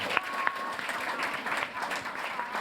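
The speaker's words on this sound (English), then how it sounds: "just a round of applause, please, for them" Audience applause for Ben, Sandra and Debbie at a City Links celebration, steady dense clapping throughout with a few sharper claps near the start, moderately loud and close.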